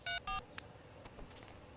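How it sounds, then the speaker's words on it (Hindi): Two short bursts of telephone keypad dialing tones followed by a single brief beep, clear against a quiet room background. "रुको, मैं कॉल करके देखती हूँ।"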